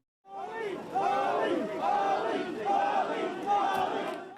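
A crowd in Manchester cheering and chanting for Muhammad Ali at a public appearance alongside boxer Ricky Hatton, rising quickly to a sustained loud roar with rhythmic repeated chants.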